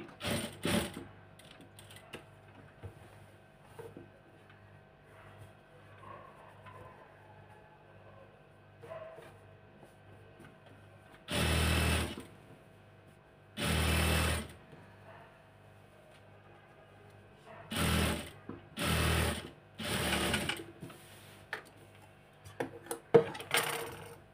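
A sewing machine stitches fabric in several loud bursts of a few seconds each, separated by quieter handling clicks and mechanical rattles.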